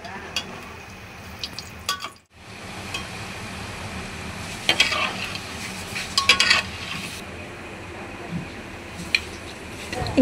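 Gulab jamun made from MTR ready mix frying in hot oil, a steady close sizzle with occasional clinks of a utensil stirring in the pan.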